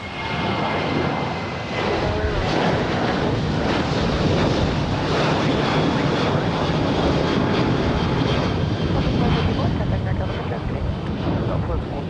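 Airplane landing on runway 30 left at San Jose International Airport, a broad steady roar with heavy wind noise throughout, loud and continuous, with speech faintly mixed in.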